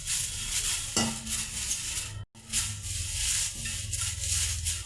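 Dried curry leaves toast in a hot pan with the stove turned off, giving a soft dry rustle and faint sizzle and a spoon scraping the pan, broken by a brief silent gap.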